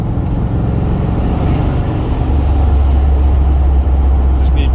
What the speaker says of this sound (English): Alright guys, this baby's running good. Real good.